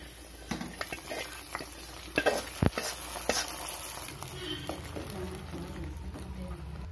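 Cashew nuts frying in a pan for payasam, a soft crackling sizzle with light stirring scrapes and a few sharper taps, close and quiet, no voices.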